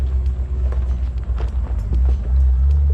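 A 1988 Ford Mustang GT Fox body rumbles as it pulls away, its low engine note steady and loud with a slight rise toward the end, plus light road and wind noise.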